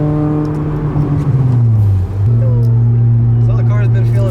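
An Acura TSX CL9 fitted with an RRC Type R intake manifold drives along, its engine droning steadily with a brief dip and rise in pitch as it pulls, loud and close, inside the cabin.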